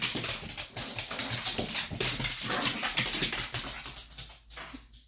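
A pug whimpers in repeated thin, whiny bursts over a dense, noisy background that drops away near the end.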